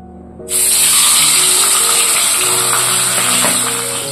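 Katla fish frying in hot oil bursts into a loud, close, steady hiss and sizzle about half a second in, then holds for the rest of the clip with no talking.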